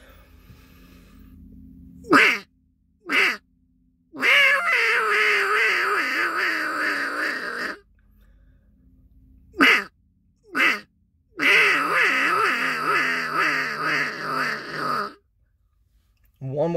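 A Mississippi stud duck call blown by a person to imitate a duck, giving loud nasal quacks: two short single quacks, a long rolling run of calls, then two more short quacks and another long sequence, close and clear.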